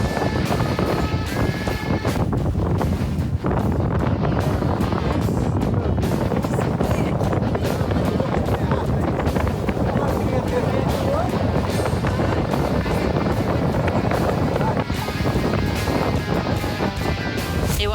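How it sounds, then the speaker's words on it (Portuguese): Strong wind buffets the microphone on a Jeanneau 50DS sailing yacht at sea, a loud, steady roar with water rushing along the hull throughout. "O vento tá gostoso, tá um puta vento gostoso."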